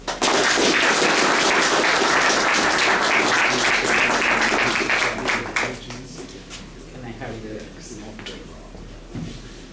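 Loud, dense applause from a lecture audience welcoming a speaker, sustained for several seconds before thinning into scattered claps and fading.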